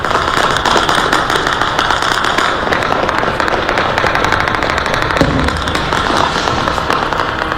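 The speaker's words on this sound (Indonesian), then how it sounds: "rentetan senjata dan ledakan terdengar di berbagai titik kota Erbil" Rapid bursts of gunfire and popping explosions across the city of Erbil, Iraq, at night, a dense crackling barrage of sharp reports in quick succession, loud and continuous throughout.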